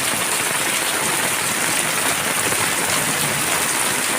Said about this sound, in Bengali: প্রচুর বৃষ্টি পড়ছে, প্রচুর বৃষ্টি।